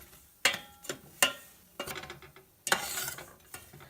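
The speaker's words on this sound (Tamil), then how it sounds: "இந்த ரவையை நல்லா கைவிடாமல் கிளறிட்டே இருங்க, இல்லைன்னா அடி பிடிச்சிக்கும்" Semolina (rava) roasting dry in a pan for rava kesari, stirred with a spoon in a series of sharp scraping strokes and soft rustles, close and moderately loud, with no talking.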